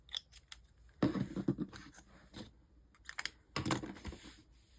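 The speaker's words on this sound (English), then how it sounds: "I'm going to actually have to get out my Dollar Tree cutting mat and use my X-Acto knife" An X-Acto knife slices paper on a Dollar Tree cutting mat, giving a series of close, crisp scraping cuts in short bursts with quiet pauses between them.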